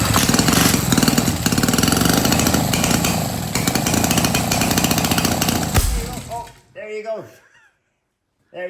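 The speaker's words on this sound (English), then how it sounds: "At least the engine's working and running." A vintage motorcycle engine, restored in a museum workshop and fitted with a 1920 electric starter, runs loudly and steadily with a harsh buzzing roar for about six seconds, then cuts out as people talk briefly in the quiet that follows.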